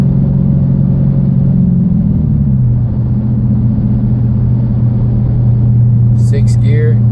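A 2014 Dodge Challenger R/T with a six-speed manual and straight pipes accelerating, a steady loud low engine drone that shifts in pitch as it pulls, with a brief voice near the end.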